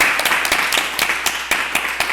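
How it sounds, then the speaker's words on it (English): Scattered audience clapping for Mark Anderson during a live webathon, a small group applauding in short irregular bursts that stay fairly steady and close throughout. "give a round of applause for Mark Anderson"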